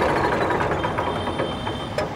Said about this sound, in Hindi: ट्रैक्टर को कर लेते हैं बंद